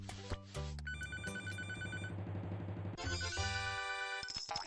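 In the Papa's Freezeria video game, a phone rings with a repeating electronic tone, layered over the game's bright jingly music.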